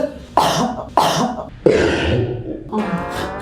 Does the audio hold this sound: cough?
yes